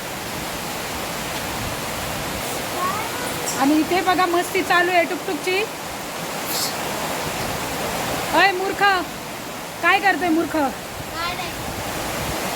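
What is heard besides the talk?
heavy rain pouring on a terrace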